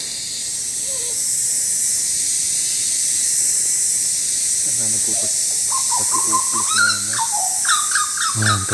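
Papuan butcherbird song in Sulawesi forest: after a few seconds of hissy forest ambience, a burst of rich, rapid fluting and warbling notes arrives, fairly close and loud, with no talking.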